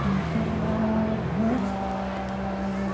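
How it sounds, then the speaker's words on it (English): Vehicles hum past on Jerusalem Road in Maryland, a steady engine drone that rises and shifts in pitch as traffic goes by at moderate distance. "The sweet noise of vehicular traffic going by."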